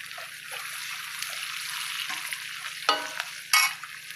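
Green chilli slices and ginger garlic paste fry in a pan with a steady close sizzle, broken by a few louder stirring scrapes toward the end.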